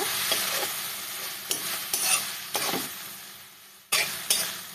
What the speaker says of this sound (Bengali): বা একটু নেড়ে নেব।